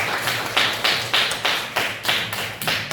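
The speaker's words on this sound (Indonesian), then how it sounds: "Tepuk tangan." Classroom applause comes in rhythmic bursts of clapping, about ten evenly spaced group claps close by, loud and steady, with no talking.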